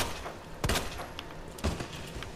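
Two gunshots in the survival-horror game Resident Evil 2 Remake, each a sharp thudding blast about a second apart, heard fairly faintly over a low murmuring background.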